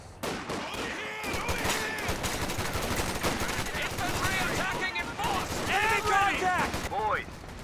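Dense, continuous light machine gun and sniper fire from the real-time strategy game Company of Heroes 2 rattles in rapid overlapping bursts, with whistling shells and explosions mixed in beneath steady commentary voices.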